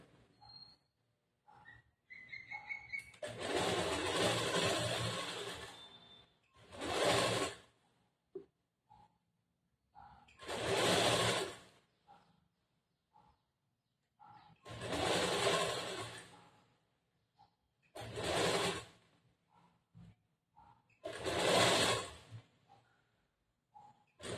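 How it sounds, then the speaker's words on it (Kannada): Sewing machine stitching a plain blouse in several separate bursts of whirring, each lasting a couple of seconds, separated by near-silent pauses, close and moderately loud. "ಈ ಕಡೆ ಹೊಲಿಯುವಾಗ ಈ ಕಡೆ ಟರ್ನ್ ಮಾಡ್ಕೊಂಡು ಈ ಕಡೆದು ಸ್ಟಿಚ್ ಮಾಡಬೇಕು"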